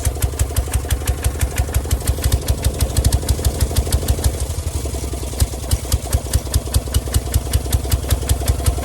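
An old engine, started after sitting unused for about 20 years, idles loudly and roughly with a fast, evenly pulsing chug and a knocking edge, running steadily on its own without speech.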